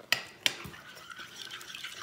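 A spoon works through potato pie batter in a bowl with two sharp clinks against the side, then softer scraping and stirring strokes, quiet and close with no talking.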